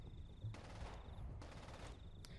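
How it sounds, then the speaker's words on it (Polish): Gunfire in the zombie mode of the video game Contagion, heard as two dense bursts of shots about a second apart, followed by a single sharp crack near the end, all fairly quiet. "coś jakieś strzały"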